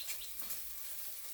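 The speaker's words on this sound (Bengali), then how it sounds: "চলো ভালো করে ভাজা হোক ততক্ষণ।" Poppy seed fritters fry in a small amount of hot oil in a pan, giving a soft, steady sizzle with faint crackles and no voices.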